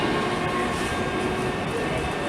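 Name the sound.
c2c train, London Liverpool Street to Shoeburyness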